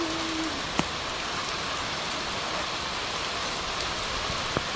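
Village rain falls outside as a steady, even wash of noise, moderately close, broken only by a couple of faint knocks.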